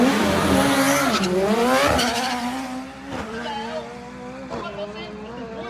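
A tuned all-wheel-drive Mitsubishi Evo with a carbon fiber dash and rear wing blasts down a drag strip in Bangkok, its engine screaming loud and close through rising gear pulls with sharp shift breaks, while people talk over it.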